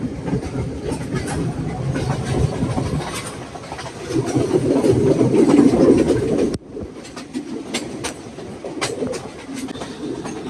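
Train on the Nuwara Eliya to Ella line rolling along the rails in heavy rain, a continuous rumbling clatter that swells, then drops abruptly and carries on more quietly.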